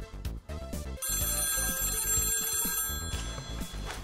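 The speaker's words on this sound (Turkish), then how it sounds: "Telefona bakmayacak mısın?" An office telephone bell rings in a steady, close electronic trill that holds for a couple of seconds and then repeats, loud and clear with no talking over it.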